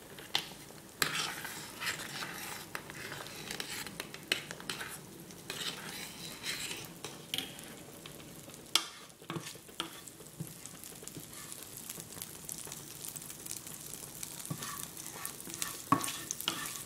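Butter heating in a hot pan for a crème fraîche mushroom pasta sauce gives a steady, moderate sizzle with scattered utensil scrapes and light pan clatter, no voices.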